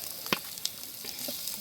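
Pork dropped into masala frying with curry leaves in a pan, giving a short burst of bright sizzling with a couple of sharp spits near the start, close and steady.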